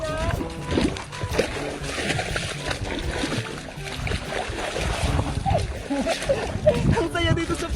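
Water splashing as people bathe outdoors in a cold countryside stream or pool, irregular splashes and wind noise throughout with people talking and shouting over it.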